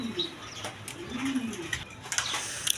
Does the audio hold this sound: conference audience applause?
no